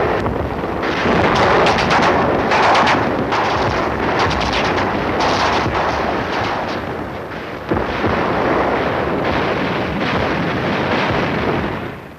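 Gunfire during an army night firing exercise, dense overlapping bursts of rifle and machine-gun shots with heavier booming blasts, loud and continuous with no talking.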